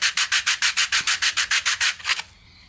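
Sandpaper rubs back and forth across a 3D printed plastic part in quick, even strokes, about a dozen close, loud rasping passes in a steady rhythm before stopping.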